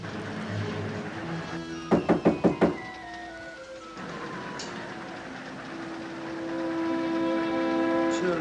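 Aboard a moving train, four sharp knocks rap on a compartment door over the steady rumble and clatter of the rail car, followed by a faint whistle-like tone.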